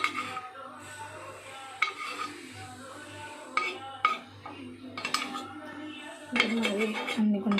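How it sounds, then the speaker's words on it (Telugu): A spoon clinks and taps against a metal paniyaram pan while oil is spooned into its cavities, giving scattered bright metallic knocks over quiet kitchen background, with a louder clatter near the end. "మరి అన్ని గుంటల్లో కూడా నేను ఆయిల్ ఫిల్ చేస్తున్నాను"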